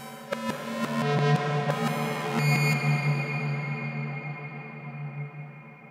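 A few plucked notes fade into a long, washy reverb tail that lingers and slowly decays over several seconds.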